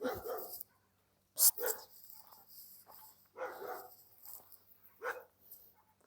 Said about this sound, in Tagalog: Andiyan na yung mga aso.